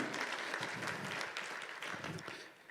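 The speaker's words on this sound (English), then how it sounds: "So, can I have a round of applause, please, thanks for coming." Audience applause at a talk introducing a guest speaker, a steady wash of clapping hands lasting throughout at moderate level, fading slightly toward the end.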